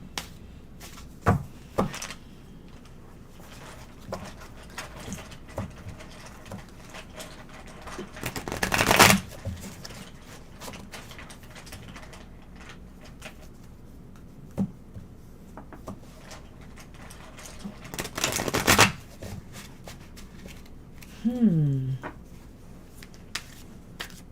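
An Ancestral Path Tarot deck is shuffled by hand, quiet riffling and card handling throughout with two louder bursts of rapid shuffling, close and alone without talk.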